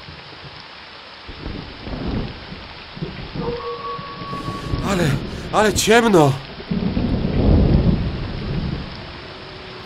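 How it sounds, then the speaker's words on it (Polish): Steady rain with a low rumble of thunder in a Polish-language Bible audio drama of the Flood, while several voices exclaim and talk over it. "Poczuli na swoich głowach pierwsze krople deszczu."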